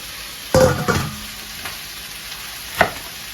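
Ginger, onions, garlic and lemongrass sizzle in a pan, with a few sharp stirring clatters near the start and another near the end over a low, steady frying hiss.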